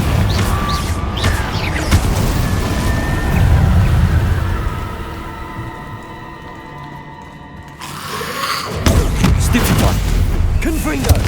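Repeated Confringo blasting spells explode in a Hogwarts Legacy fight, loud rumbling booms and crackling bursts stacked over busy combat noise, easing off briefly before another round of blasts.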